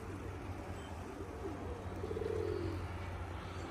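A pigeon near its nest in a rooftop coop gives a soft, faint rolling coo against a steady background hiss and hum.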